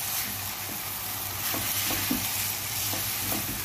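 Minced meat stirred with salt and garam masala in a hot pan, a steady sizzle of frying with soft scraping strokes of the spoon repeating every half second or so, close and alone.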